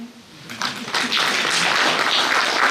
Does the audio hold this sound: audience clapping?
yes